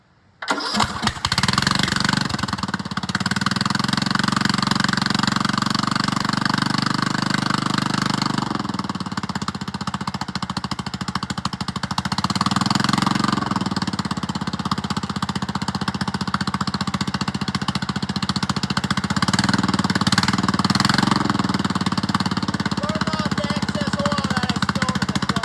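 A 19.5 hp Briggs & Stratton small engine, freshly fitted with a new cam, starts and runs steadily and loudly up close, its rough mechanical chug continuing throughout with faint talk.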